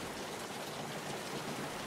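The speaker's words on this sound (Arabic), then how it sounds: "أثناء هطول الأمطار لا يفضل الخروج من البيت بلا ضرورة" Steady, even rain falls outside in a cartoon scene, a soft continuous hiss of drops with no voices over it.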